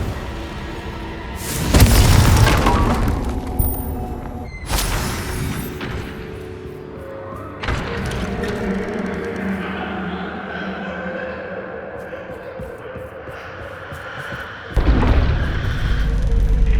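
Confringo fire spells explode in the video game Hogwarts Legacy: loud booming blasts land at intervals over a rumbling battle backdrop, with a sharp final burst near the end.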